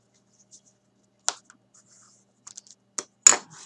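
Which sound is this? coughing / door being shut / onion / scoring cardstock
scoring cardstock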